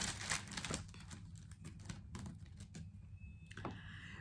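Wooden divination sticks are shuffled and mixed by hand, giving a steady run of close, dry clicking and rattling taps that carries through the whole stretch, with no talking over it.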